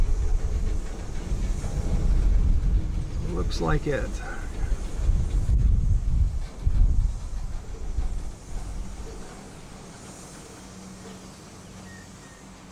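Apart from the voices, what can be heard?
CSX freight train with box cars stopping and rolling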